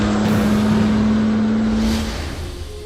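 A heavy truck hauling a house drives fast toward a bridge, its engine holding a steady loud drone that eases off slightly near the end.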